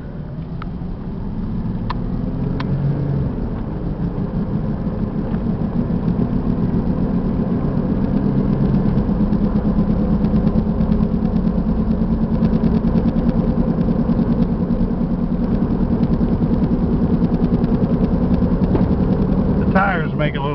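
A 2000 Ford Mustang's 3.8-litre V6 idles steadily through its muffler, a loud, even, throaty rumble close by that holds without change for the whole stretch.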